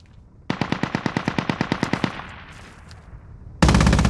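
Rapid burst of about fifteen evenly spaced gunshot-like reports from the Squad video game's mortar or weapon fire, loud and close, fading into a lingering rumble before a sudden burst of broadband noise.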